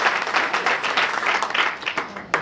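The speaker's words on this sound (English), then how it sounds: "Let's give them a round of applause." Audience applause at a South African local-government women's commission gathering, a steady wash of many clapping hands rising and falling for a couple of seconds, fairly close and with no talking over it.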